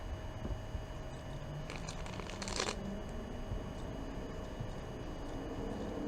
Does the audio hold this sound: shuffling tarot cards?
yes